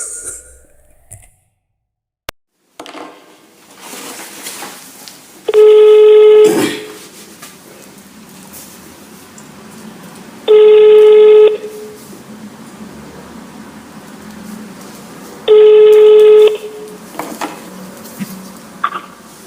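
A telephone call goes out, with three evenly spaced ringback tones about five seconds apart, each lasting roughly a second, heard clearly over quiet background noise and no talking.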